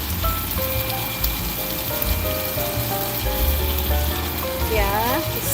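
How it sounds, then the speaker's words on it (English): Spinach and potatoes with portobello sizzle steadily in a hot pan, a loud, close, continuous frying crackle with faint background tones. "I'm cooking my spinach, my potatoes too"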